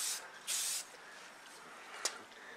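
Spray paint hisses onto a storage rack in a light starting coat, with two short bursts, one longer and louder than the other, followed by a sharp brief spritz near the end, with no talking.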